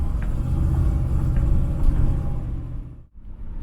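Car with ACES EFI and a two-speed Powerglide transmission driving, a steady deep engine and road rumble from inside the cabin that dips briefly near the end.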